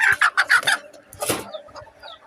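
A protective mother hen kept in a backyard poultry setup clucks loudly and close by in a quick burst of several clucks, then gives quieter, scattered clucks and rustling.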